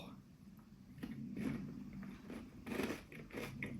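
Crisp crunching bites into chocolate-coated cornflake clusters come close to the mic, a few distinct crackly crunches spread across a few seconds with quiet background.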